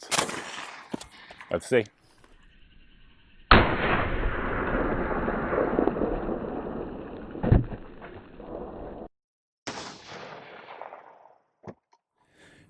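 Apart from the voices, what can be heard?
AK rifle firing 7.62x39 steel-jacketed rounds at armor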